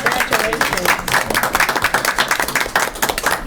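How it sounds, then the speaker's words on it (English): A meeting audience in the Village of Bingham Farms claps in a sustained round of applause, a dense, steady patter of many hands filling the room with no pauses. "we'll give you a round of applause"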